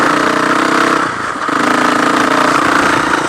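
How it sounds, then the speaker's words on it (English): An ATV quad engine heard while riding behind another quad on a desert trail, a loud, steady, close buzzing drone with a slight dip in the middle before it builds back up. "So much fun riding behind a quad."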